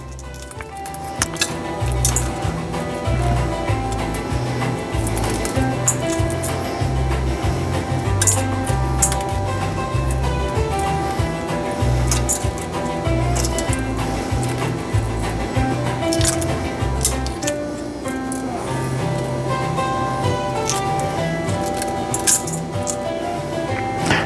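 Hard-boiled eggshells being peeled in a colander give repeated clinking, crackling and squishing noises close up over steady running-water-like noise, with no talk.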